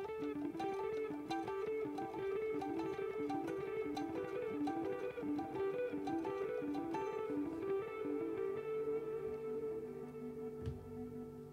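Electric guitar played through the Archetype Abasi plugin on a piezo-style plucky preset with default cabinet IRs and a light reverb blend in a full band mix, bright plucked notes ringing continuously over drums and bass.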